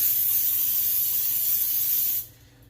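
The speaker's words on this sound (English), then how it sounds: "Make sure that you grab your spray, okay, and make sure you spray" A close, continuous hiss of aerosol cooking spray sprayed into a pie plate, held for about two seconds, then abruptly cut off, leaving quiet room tone.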